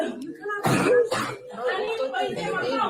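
People affected by pepper spray after a teen sprayed a teacher cough and clear their throats in short bursts in the background, partly masked by louder nearby talking.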